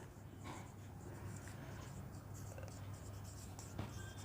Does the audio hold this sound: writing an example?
yes